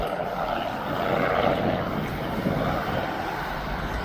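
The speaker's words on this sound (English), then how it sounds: "So you got the Spitfire." A Spitfire flies over East Midlands Airport on its way back from an Eastbourne air show, its propeller engine making a steady, broad drone that swells a little partway through and holds at moderate loudness throughout, with no talk.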